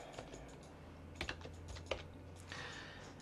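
Typing on a computer keyboard while building a custom Arc theme in Linux Mint, a short burst of quiet key taps with a few louder clicks, faint and close, with no talk.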